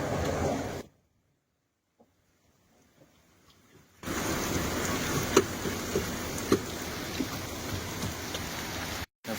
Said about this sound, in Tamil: மழை பார்த்தீங்கன்னா பயங்கரமாக பேஞ்சிட்டு இருக்குது